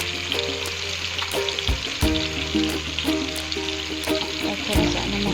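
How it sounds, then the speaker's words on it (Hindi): Red chili, chili powder, turmeric, coriander powder and salt frying in masala for masala bhindi, a steady close sizzle with bubbling and occasional clinks and stirring knocks throughout. "और स्पाइसेस को अच्छे से हम फ्राई कर लेंगे अपने मसाले के अंदर"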